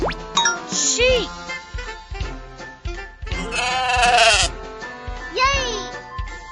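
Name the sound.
sheep bleating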